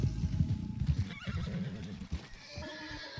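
A horse in the Red Dead Online game neighs and whinnies close by, with clip-clopping hooves and shuffling around it in a short, busy burst.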